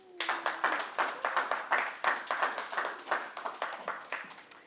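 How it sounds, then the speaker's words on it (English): A small audience gives a round of applause at a youth empowerment information session on social housing, with distinct hand claps that come in uneven bursts and then fade out. "Let's give her a round of applause."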